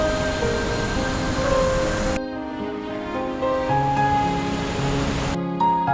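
Steady rushing roar of a waterfall in Banff National Park, loud and close, with musical tones layered over it and the broadband rush dropping away after about two seconds.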